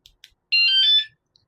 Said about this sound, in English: that last beep means that it's armed